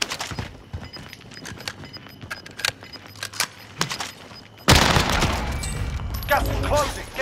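Gunfire in Call of Duty Warzone on Rebirth Island includes scattered single shots and short bursts. It then swells into loud, sustained automatic fire and explosive noise, with game voice lines and a player talking in the mix.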